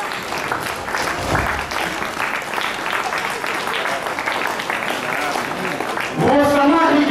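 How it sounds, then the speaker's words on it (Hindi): An audience at a Shree Ahibaran Jayanti celebration held by a Barnwal community committee claps steadily in a moderate, continuous patter for several seconds, then a person starts speaking over the fading claps near the end. "तालियों में कंजूसी हो रही है"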